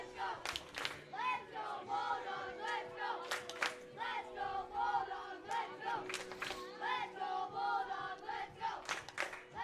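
Spectators at a Cal Ripken 10U World Series youth baseball game chant "Bulldogs" over and over in a steady rhythmic cadence, the massed voices somewhat distant and echoing, punctuated by sharp claps.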